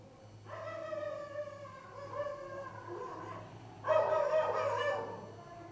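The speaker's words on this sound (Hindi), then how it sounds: "बाहर की आवाज़ मत सुनना, यहाँ कुत्ते बहुत हैं, भौंकते रहते हैं रात भर।" Dogs bark and yip outdoors at night, sounding from a middle distance. The barks come in drawn-out, howl-like bursts, with a louder cluster near the end, over a constant low hum.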